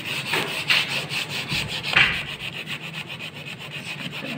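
Rhythmic scratchy rubbing of a sanding sponge against a wooden table, several strokes back and forth at close range, with no talking.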